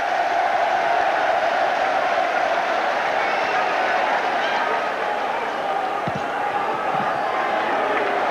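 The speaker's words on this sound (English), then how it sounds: "an ironical cheer from the Hull Kingston Rovers crowd as referee Whitfield indicates a penalty to Rovers" A Hull Kingston Rovers rugby league crowd against Leigh lets out a sustained, mocking cheer, a broad steady roar of many voices filling the stadium for several seconds with no clear break.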